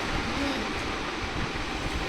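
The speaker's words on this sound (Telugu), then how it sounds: "ఇంటర్సిటీ ఎక్స్ప్రెస్ అది" Steady broadband rumble and rattle of an Intercity Express train running, heard from inside, continuous and fairly loud for the whole stretch with no talk.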